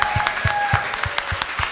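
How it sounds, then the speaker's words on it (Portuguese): A church congregation applauds a visiting pastor with a brief burst of rhythmic clapping, fairly loud and evenly paced, with faint tones ringing underneath. "eu gostaria que vocês o recebessem aplaudindo ao Senhor"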